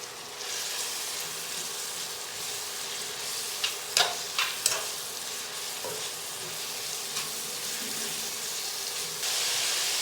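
Finely chopped onions, about three-quarters of a kilo, sizzling in a pan with cinnamon for chicken gravy, giving a steady close frying hiss broken by a few sharp stirring scrapes.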